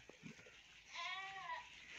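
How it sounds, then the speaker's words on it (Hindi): A goat of a heavy breed gives one wavering, nasal bleat lasting about half a second, faint and somewhat distant over quiet outdoor background noise, after a few soft handling sounds. "बकरी"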